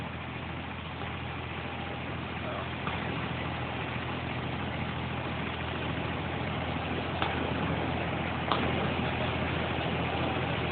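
The engine of a Dubai water bus near Bur Dubai drones at a steady, even level throughout, a constant close-up rumble and hum with no talking over it.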